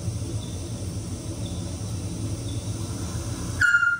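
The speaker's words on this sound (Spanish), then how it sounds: "Un autillo es una nota," A Eurasian scops owl at night gives a single short, clear whistled note at the very end, sounding after a steady hiss of insects and faint background noise.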